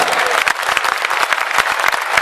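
An audience claps loudly and steadily, a dense crowd applause filling the whole moment.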